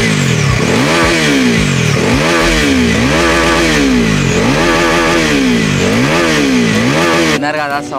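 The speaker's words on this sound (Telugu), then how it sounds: "ఇప్పుడు దీని ఎగ్జాస్ట్ నోట్ అయితే ఇందాం మనము." A Bajaj Pulsar NS400Z motorcycle revs repeatedly up and down, its loud exhaust note rising and falling in close, steady cycles before cutting off abruptly.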